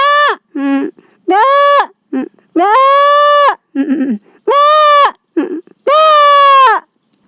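A man imitates goat bleats with his voice, producing a series of loud, drawn-out nasal bleats in quick succession, each separated by short pauses and interspersed with brief shorter calls.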